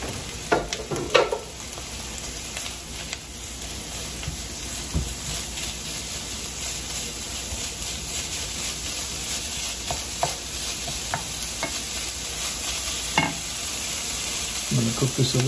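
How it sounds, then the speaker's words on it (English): Ground beef sizzles and fries steadily in a pan while being stirred, with scraping spatula strokes standing out over a constant close hiss throughout. "and then I'm going to add the ground beef. Alright, and go with the ground beef."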